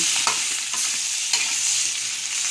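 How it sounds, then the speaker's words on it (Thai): Catfish pieces stir-fried in a pan with curry paste for a pickled bamboo shoot curry give a loud, steady sizzle with a few sharper scraping stirs. There is no talking. "เราก็ใส่ปลาลงไปเลย แล้วก็ผัดค่ะคุณผู้ชม"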